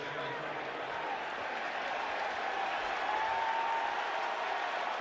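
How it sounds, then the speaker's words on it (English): A stadium crowd at an NFL game between the Kansas City Chiefs and San Francisco 49ers roars and applauds in a dense, steady wall of noise, with voices mixed in. "Just listen to the crowd."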